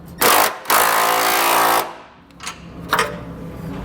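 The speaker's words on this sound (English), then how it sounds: "with a power tool like this, I put on a swivel end so this can kind of move around any direction you want it to" A power tool fitted with a swivel end drives down Curt trailer hitch hardware on a 2021 Subaru Outback Wagon: two loud, close buzzing bursts, a short one and then a longer run, followed by quieter clicks and brief whirs.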